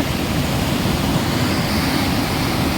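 Water rushing steadily at Usri Falls, a waterfall in Jharkhand, a dense, constant roar filling the whole clip without a break or a voice.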